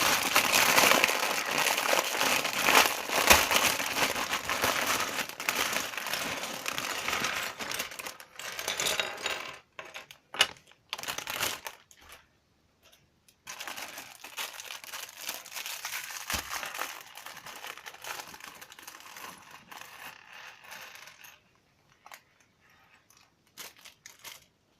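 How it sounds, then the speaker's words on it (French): A plastic bag of LEGO Ninjago pieces is torn open and handled close up, with loud crinkling and rattling for several seconds, then quieter intermittent rustles and small clicks of bricks shifting. "Le sachet numéro 1, on va l'ouvrir."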